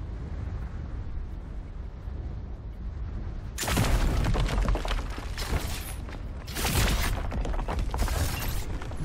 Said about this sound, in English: so let's shoot some rocks for a bit